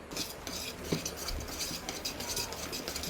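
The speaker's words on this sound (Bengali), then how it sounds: "এরপরে এটাকে ভালো করে ফেটাবো।" Rice flour batter for frying fritters being whisked in a bowl, a quiet, rapid, rhythmic scraping and patter of utensil against the dish, close and steady.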